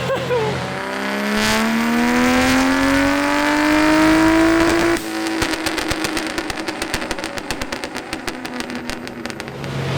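A Barra-swapped Ford Mustang GT350 revs hard on a dyno, the engine note rising loudly through a long pull before cutting off into a rapid, crackling idle and burble.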